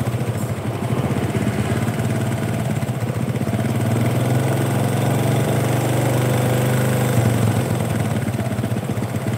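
A Honda Supra 125 motorcycle that stalls when its engine runs hot idles loudly and steadily after a restart, with a continuous close mechanical drone and no talking.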